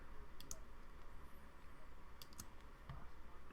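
Computer mouse clicks during vector illustration work in Illustrator: a few faint, sharp clicks spaced irregularly over a steady low background hum, with no talking.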